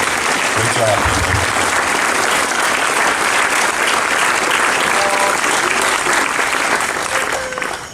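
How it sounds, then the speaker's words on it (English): Audience at an outdoor municipal band concert applauds the band's soloists, a sustained, even wash of clapping that fades at the very end. "So another round of applause, please, for our great soloists in this band."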